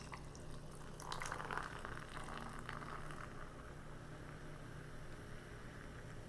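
Ginger ale poured into glasses gives a faint, soft splash and fizz that peaks briefly near the start and settles into a low bubbling hiss.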